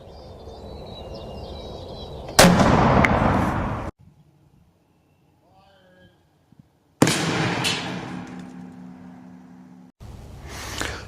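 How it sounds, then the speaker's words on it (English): A 12 gauge Bone Collector P3000 pump shotgun fires outdoors, two loud sharp blasts a few seconds apart, each with a brief rolling echo and a near-silent gap between them. "Firing."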